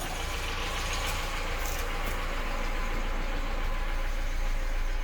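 A Peugeot 207cc engine runs on fresh oil and new spark plugs, a steady low rumble holding at an even level throughout with no voices.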